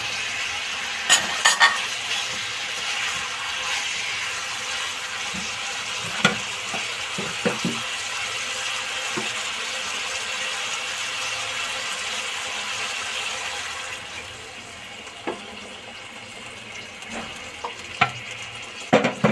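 Pointed gourd pieces fry in a pan with salt and a little sugar, making a steady, even sizzle broken by occasional sharp clinks of a spoon stirring, with no talk.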